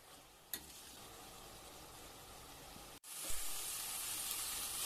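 Ash gourd with small shrimp simmers in a pan as its water cooks off, giving a steady soft sizzle and hiss with a brief clatter, then growing louder and brighter partway through.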